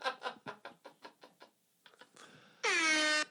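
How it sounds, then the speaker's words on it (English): A phone app plays a loud, steady foghorn blast near the end, preceded by a rhythmic series of short tapping knocks and a brief pause. "He finally got a little foghorn on his phone here"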